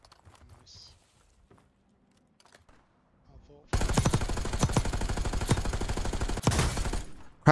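Automatic gunfire in the video game Call of Duty Black Ops 6 war mode bursts in loudly and keeps up steady rapid shots, following a quieter stretch with faint voices and game sounds.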